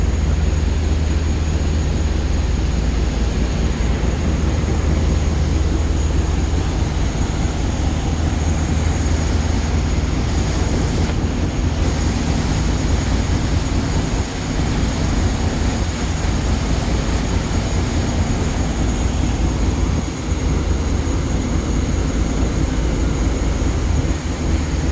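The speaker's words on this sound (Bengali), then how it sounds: "তো বুড়িগঙ্গা ব্রিজ এর খুবই কাছে MV-7C লঞ্চ, খুব কাছ দিয়েই কিন্তু ওভারটেক করছে MV" Passenger launch MV-7C overtaking another launch at close range on the Buriganga river near the bridge, a loud steady engine drone and rumble holding for the whole stretch with no talk.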